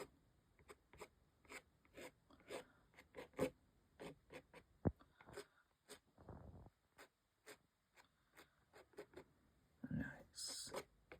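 Corner of a card scraped across watercolour paper to add feather texture to a painted cockerel, a series of short dry scratches and rasps in quick uneven strokes, close and quiet, with a brief louder rub near the end.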